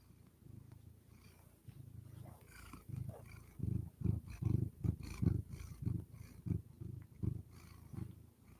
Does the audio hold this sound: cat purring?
yes